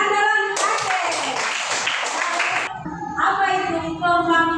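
Classroom pupils clap their hands together in a short, loud, steady burst during a religious education lesson, then the clapping stops abruptly and a teacher's voice continues speaking.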